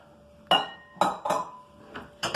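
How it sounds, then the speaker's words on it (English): A bowl being taken out for mixing homemade playdough clinks and clatters against other dishes, several sharp ringing knocks close by in a quiet room. "we're going to start off and get out a bowl"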